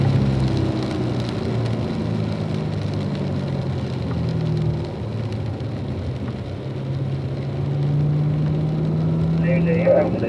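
Pouring rain falls at the Spring Mountain track during a session, a constant hiss over the low drone of a car engine. A faint voice is heard underneath.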